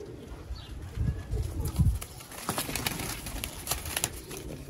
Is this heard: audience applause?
no